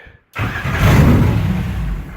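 A car fitted with mechanical fuel injection cranks over after a brief click, its engine churning loud and close in a continuous, rising whir that catches toward a rough run for about two seconds, with no talking.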